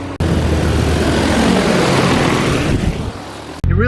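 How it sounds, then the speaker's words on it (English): A large agricultural spray drone flies close overhead spraying water, its loud, steady motor drone roaring for several seconds, broadband and unbroken, then cutting out abruptly near the end. "It really doesn't feel right to be underneath a"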